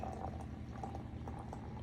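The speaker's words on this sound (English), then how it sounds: "And then I'm going to add my water." Already-hot water is poured into a pot on the stove for a chai latte, a steady close-up splashing stream that runs without a break for a couple of seconds.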